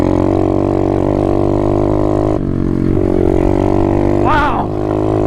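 A loud exhaust on an Apollo 125 RFZ Chinese dirt bike roars close by while riding, holding a steady buzzing note, briefly dipping, then revving sharply upward near the end.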